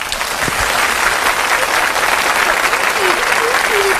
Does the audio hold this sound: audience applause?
yes